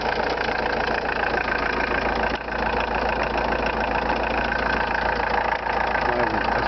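Diesel engine of a Volkswagen Golf 2 TD idling steadily and close by, a continuous low rumble with a dense, even ticking texture throughout and no audible knock.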